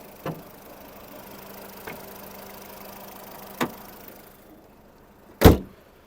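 A 2007 Volkswagen Polo with a 1.4 MPI petrol engine idles quietly and evenly, a low steady hum with a few faint clicks and one sharper knock near the end.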